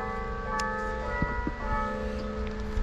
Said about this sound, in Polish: Na anioł pański biją dzwony.